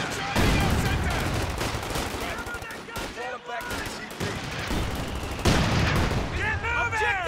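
Heavy machine gun suppressive fire in Company of Heroes 2, dense sustained bursts of gunfire mixed with other battle noise and shouted unit callouts throughout.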